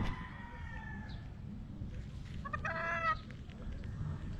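Chickens cluck quietly in the background, with a rooster's crow rising briefly near the end over faint outdoor ambience.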